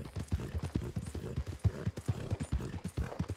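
Horse hooves clip-clopping on the ground in the video game Red Dead Redemption 2, a steady rhythmic trot of many soft hoof falls at close range, with no talk.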